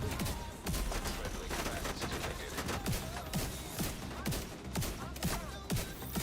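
Rapid gunfire in The Division 2, a dense continuous barrage of repeated shots and bursts lasting throughout, fairly loud and busy with overlapping reports and impacts.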